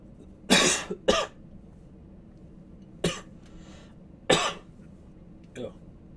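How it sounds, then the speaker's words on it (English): Several separate coughs, close and loud: a quick pair, then single coughs spaced a second or so apart, fading to a softer one. "I was coughing."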